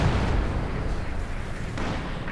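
Mortar and field gun fire on a Company of Heroes 2 battlefield, a continuous loud rumble of distant artillery booms and impacts blending together with no pauses.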